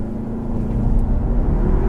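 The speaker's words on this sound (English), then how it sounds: "Shut the traction control off. Okay. And I'm gonna rev it." A 2015 Audi A3 in sport mode with traction control off revs its engine, a loud, steady low drone that swells slightly as it holds, close up and with no voices.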